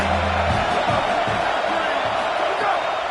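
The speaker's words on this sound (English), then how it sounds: "how nice is it to have the home crowd going absolutely bananas?" A home crowd in a Madden NCAA college football game roars in a broad, sustained wash of cheering. Someone talks over the noise in its early part.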